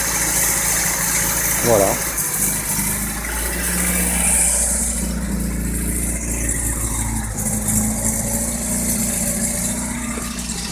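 An MGB Roadster with electronic ignition idles smoothly at a slightly raised speed with the choke on, a steady low rumble with a faint rattle, while someone speaks briefly over it.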